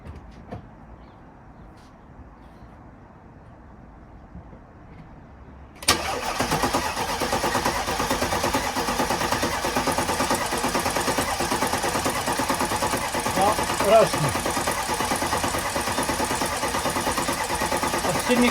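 An Audi A8 D4 with the 4.2 FSI engine cranks after a quiet stretch, then catches and settles into a steady, loud, even running note that carries on without a break.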